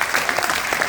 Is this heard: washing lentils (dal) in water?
no